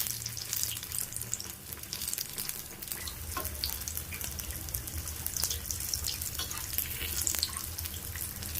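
Capsicum bajji fritters frying in hot oil in a small pan, a steady dense sizzle and crackle running throughout with no voices, close and moderately loud.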